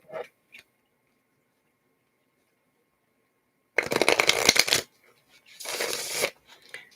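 A tarot card deck is shuffled loudly and up close in two dense riffling bursts, separated by a short pause, after an otherwise quiet stretch.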